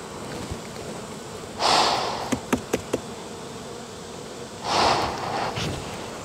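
Honeybees in a hive being treated with vaporized oxalic acid give off a steady close buzz. The buzz swells loudly twice, with a few sharp taps in between.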